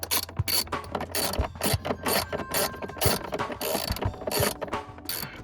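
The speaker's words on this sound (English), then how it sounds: "Reinstall the battery tie down." A ratchet wrench tightens the battery tie-down on a Ford Escape in quick, close, rhythmic bursts of clicking, with brief pauses between strokes and no voices.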